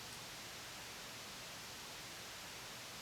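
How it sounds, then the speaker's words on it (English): Soft, even hiss fills the clip, a steady broadband tape noise from an analog tape emulation plugin with no other sounds, quiet and unchanging. "you can add or subtract your hiss"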